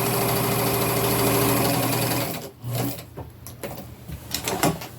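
A sewing machine runs a zigzag stitch through garment fabric in a steady, loud, close whir for about two seconds, then stops and gives way to handling rustles and small clicks.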